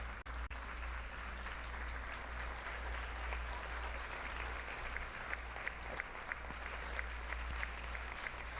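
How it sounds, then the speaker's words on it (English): Applause in Venezuela's National Assembly: a sustained round of clapping from a large crowd, steady and moderately loud throughout, over a low room hum. "For Miguel Otero, that applause, that round of applause."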